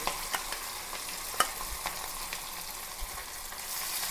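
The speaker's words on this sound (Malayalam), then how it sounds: "ഞാൻ ഇന്നത്തെ സ്പെഷ്യലിന് മീൻ വറുക്കാൻ പോകാം" Salted, bony fish frying in oil in a pan makes a close, continuous sizzle with a few soft clicks and pops.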